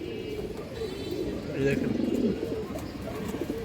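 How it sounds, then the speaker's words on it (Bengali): Soft, low cooing of black Muslodom pigeons with booted feet from an old line, kept at a pigeon farm, heard close under someone talking over them. "কিছুটা কালো মুসলদম কবুতর আছে"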